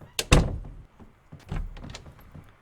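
Doors close in a house in the zombie survival game Project Zomboid: a sharp, loud thunk comes first, then softer knocks and shuffles.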